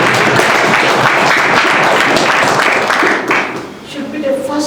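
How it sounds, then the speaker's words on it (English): An audience at an official speech to district commissioners breaks into broad, sustained clapping. The applause fills most of the moment, then thins out near the end. "deserves a better clap"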